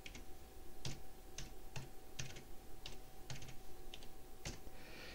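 Quiet, steady typing on a computer keyboard while an email address and password are entered, with irregular clicky keystrokes in short bursts over a low background hum.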